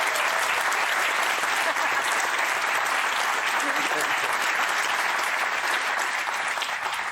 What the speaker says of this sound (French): Il faudrait qu'on applaudisse Léa.